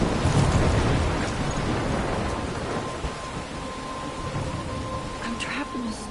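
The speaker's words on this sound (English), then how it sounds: "I'm trapped in a storm?" Thunderstorm in the video game Life is Strange: dense, steady rain hiss with deep rolling thunder, loudest at the start, and a faint tone running through it, surrounding everything at close range.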